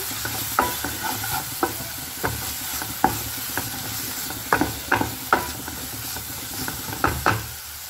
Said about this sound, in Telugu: పౌడర్స్ అన్నీ ఒక టూ మినిట్స్ పచ్చివాసన పోయే వరకు ఫ్రై చేసుకుందాం